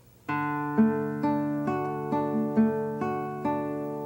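A nylon-string classical guitar fingerpicks a repeating right-hand pattern over one held chord, each note clearly plucked at an even pace, close and fairly quiet with no talking.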